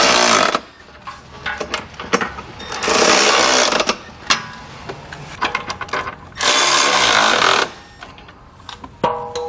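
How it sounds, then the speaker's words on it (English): Bolts on a trailer hitch receiver being run down with an 11/16 socket on a power tool under a 2022 Honda CR-V, loud buzzing whirring bursts of a few seconds each, separated by quieter clicks and handling noise. "Now I'm going to just tighten these up with an 11/16 socket."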